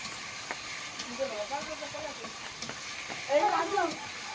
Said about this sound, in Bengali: এই যে এইভাবে পেঁয়াজ ভালোভাবে নাড়তে হবে, ঠিক আছে। নাইরে ভালোভাবে ভাজতে হবে ভাইজা।